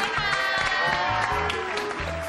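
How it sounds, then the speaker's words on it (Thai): A live audience at a New Year 2013 show claps in a dense, continuous wash of applause, with a voice and music running underneath. "ขอเสียงปรบมือให้กับพี่ตั๊กอีกครั้งหนึ่งครับ"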